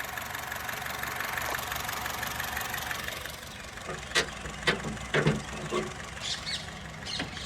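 A 2018 Honda City VX top-model petrol sedan idles with a steady, even engine hum, and a few brief louder sounds and faint chirps break in during the second half.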